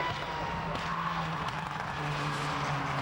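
Race cars file past on the track at Pembrey circuit, making a continuous loud engine drone with a sustained whine and slight swells as the field goes by.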